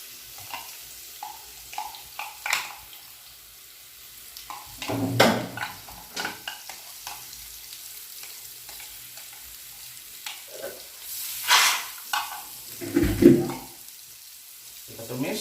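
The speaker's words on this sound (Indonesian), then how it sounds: "kita masukin bumbu yang sudah dihaluskan tadi ya ke dalam wajan sini" Ground spice paste sautés in hot oil in a wok for carp pesmol, with bursts of sizzling and scraping stirs that rise and fall intermittently at close range.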